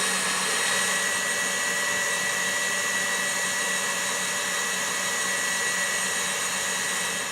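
Electric mixer whisking egg whites for a passion fruit pavlova, a loud continuous whirring drone that holds steady and close throughout, with no talking over it.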